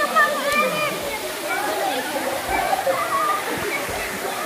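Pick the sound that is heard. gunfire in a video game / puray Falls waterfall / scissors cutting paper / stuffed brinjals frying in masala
puray Falls waterfall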